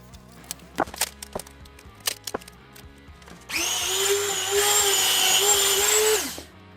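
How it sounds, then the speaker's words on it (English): A Dremel rotary tool fitted with a polishing wheel works the frets of a vintage Fender guitar neck, giving a steady, high-pitched whine that lasts about three seconds after a series of light clicks and taps. "just use a Dremel tool with a polishing wheel attached to the front"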